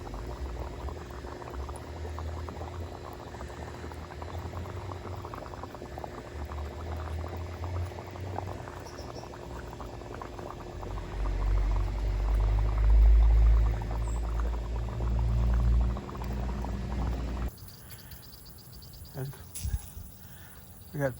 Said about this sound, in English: we'll let that bubble out and we'll find out next year